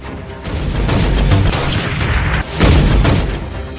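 Gunfire at night on Amar Cinema Road in Chhoti Kalyani, ringing out from a tower building: a dense, continuous barrage of loud, reverberant bangs and booms, with a brief dip partway through, heard alone with no talk.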